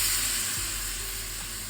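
Ingredients are poured into a hot pan while cooking ghughni with peas, chickpeas and kidney beans, making a loud, continuous steamy hiss and sizzle with no talking.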